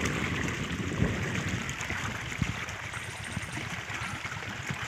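Water gushes steadily from a motor pump into a field of Malabar spinach, making a continuous, close rushing and splashing sound with no pauses.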